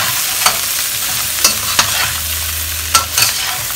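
Prawns stir-fried with preserved black beans in a wok sizzle loudly while a spatula scrapes and clanks against the metal in a few sharp, uneven strokes, close up and with no voices.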